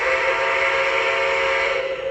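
A Lionel brass hybrid Union Pacific Challenger model locomotive sounds its whistle in one steady, sustained, fairly high-pitched tone. It is loud and close and holds evenly for about two seconds without a break.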